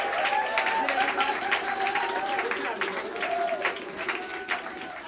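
Audience at Smalls Jazz Club in New York City gives a warm round of applause for a young musician, steady clapping filling the room for several seconds before slowly tapering.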